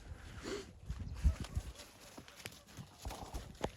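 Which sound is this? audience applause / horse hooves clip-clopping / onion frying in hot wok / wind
horse hooves clip-clopping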